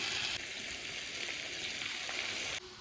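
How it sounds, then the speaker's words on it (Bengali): Bottle gourd and potato fry in a pan as soaked red lentils go in, a continuous bright sizzle with a brief dip and then a sharper burst near the end, heard alone. "এখন ডালটা দিয়ে দিচ্ছি"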